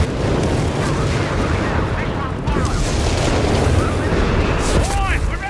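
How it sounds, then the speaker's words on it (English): Mortar fire and explosions in Company of Heroes 3, a dense, loud rumble of battle booms layered over each other with a voice talking over the din. "Wow, their mortars are right here."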